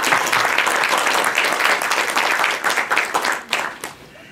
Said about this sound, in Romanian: Din toată inima îl felicit și vă rog să-l aplaudăm